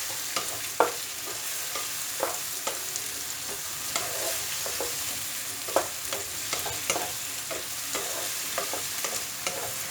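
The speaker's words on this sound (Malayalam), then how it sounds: "നമുക്കിതിലേക്ക് വെണ്ടയ്ക്ക ചേർക്കാം നന്നായിട്ട് ഇളക്കുക" Okra stirred into frying onion masala in oil for a stuffed ladies finger dish: a continuous bright sizzle with regular scraping and tapping of the spoon against the pan, close and without talk.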